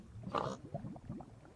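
A Minecraft pig gives a short oink followed by a few soft snorting grunts, quiet and close, with no voices.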